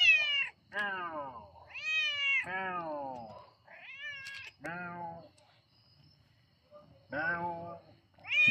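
A cat meows repeatedly and insistently, several long, wavering cries close up with brief pauses between them in an otherwise quiet room.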